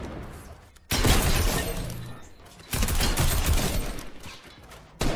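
Bursts of Tactical Assault Rifle fire in the Fortnite video game: two long, loud sustained volleys separated by a brief lull, with a third burst starting at the very end.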